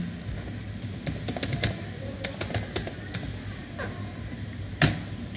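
Someone types on a computer keyboard at close range, with quick irregular bursts of crisp key clicks and a louder keystroke near the end over a faint background hum.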